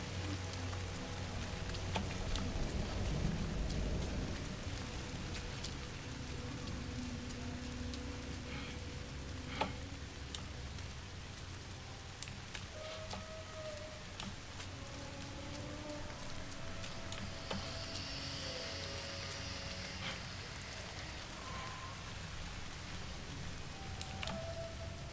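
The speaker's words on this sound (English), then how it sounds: "Acid rain." Steady video-game acid rain patters and drips across the whole stretch, with scattered ticking drops and faint electronic tones underneath.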